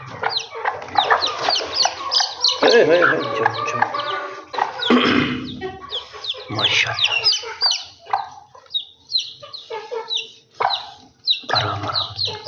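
Golden Misri chickens cluck steadily at close range while being given grain from a small dish, with occasional louder bursts and someone talking over them.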